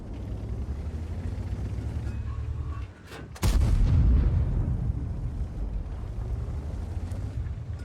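A tank cannon fires a blind shot in World of Tanks, one heavy booming blast mid-clip with a rumbling low tail, set against a steady background rumble of engine and wind.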